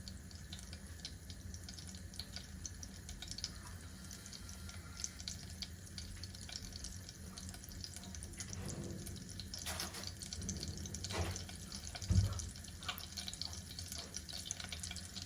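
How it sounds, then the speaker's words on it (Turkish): Water being added to grape molasses for making pestil in a home kitchen, a steady faint pouring and trickling flow with a few small splashes, no talk. "Bu şekilde su ilave ettik."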